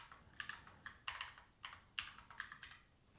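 Typing on a computer keyboard, a close cluster of quick key clicks coming in short irregular bursts with brief pauses between them and no talk.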